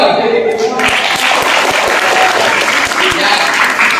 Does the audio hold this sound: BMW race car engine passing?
no